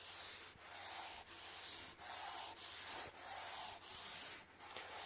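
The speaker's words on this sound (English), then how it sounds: "and 3000 grit, which sounds like this." Wet sanding the clear coat on a Honda Del Sol with 3000 grit sandpaper: soft, hissing back-and-forth strokes in a steady rhythm, about seven passes with brief pauses between, faint and close with no talk.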